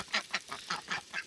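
Ducks quacking outdoors during a snowy blizzard, about six quick, clear quacks in a steady rhythm, fairly close and moderately loud.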